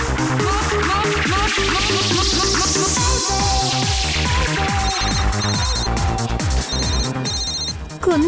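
A telephone rings with a loud, repeating electronic ringtone melody that plays continuously in rhythmic bursts, alone and up close.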